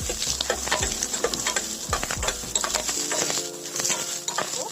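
Onions sizzle steadily in hot oil on a high flame, with a spoon scraping and stirring the pan now and then.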